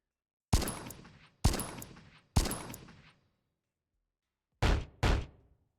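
Gunfire from a weapon being emptied in the psychedelic dungeon-crawler game The Killing Moon: Descent of Lunaris comes as five sharp, loud shots with ringing tails: three evenly spaced, a pause, then two more in quick succession.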